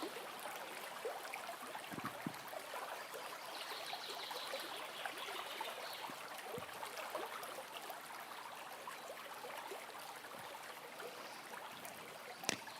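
A continuous flowing stream of water trickles and babbles steadily at moderate, soft volume, with no voices over it.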